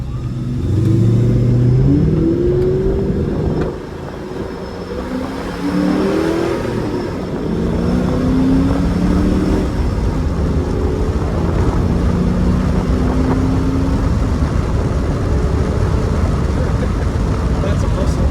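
A Procharged 2003 Ford Mustang Mach 1 engine revs loud and close, its pitch rising and falling through repeated throttle blips over a steady roaring idle, with people talking over it.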